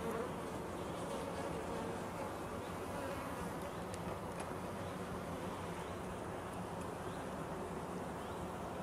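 Bees buzz steadily around their hives in a close, continuous drone, with no voices over the swarm.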